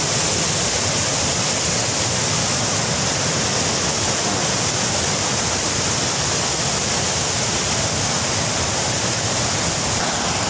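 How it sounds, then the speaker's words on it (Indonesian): Gunung Banteng waterfall deep in the East Kalimantan forest, a loud, steady, unbroken roar of falling water filling the whole span, close and constant with no other sounds standing out. "ini namanya air terjun Gunung Banteng"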